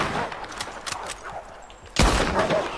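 Gunshots in the western video game Red Dead Online, a few sharp cracks early, then a loud heavy blast near the end, close and punchy, with game ambience between shots.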